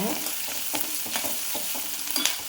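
Two green chillies and two onions sautéing in oil in a pan, a close, even sizzle punctuated by quick rhythmic scrapes of a spatula stirring, with nobody speaking.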